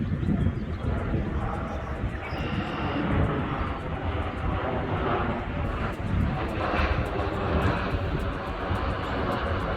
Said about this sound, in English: you will hear airplane noise